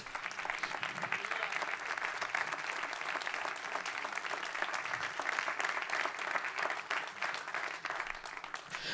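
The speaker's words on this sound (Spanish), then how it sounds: "dale un aplauso fuerte a Dios" A church congregation claps together in sustained, dense applause at moderate distance, with a faint murmur of voices underneath.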